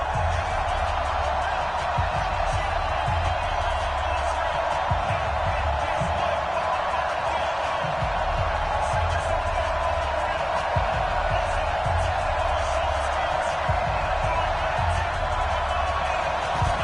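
Stadium crowd in Madden NFL 20 before kickoff against the New York Jets, a dense steady roar with scattered thumps and cheers throughout, continuous and unbroken.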